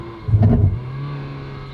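A Ferrari engine blips and revs briefly during a downshift, one short sharp burst of revs that quickly falls back to a low idle hum.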